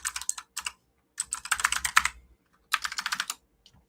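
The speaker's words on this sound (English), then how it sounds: "I'm typing it up right now" Bursts of rapid typing on a computer keyboard, close and clear, arriving in three quick clusters of clicking keystrokes separated by short pauses, with no voices.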